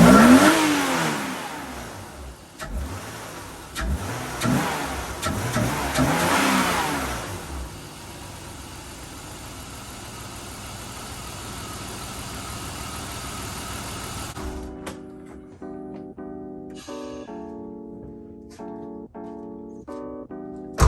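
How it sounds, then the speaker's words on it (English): A BMW M3 fitted with a DINAN intake and strut bar fires up and revs a few times, loud air induction roar and engine surges up close, then drops to a steady idle with faint clicks and beeps. "That air induction noise is insane."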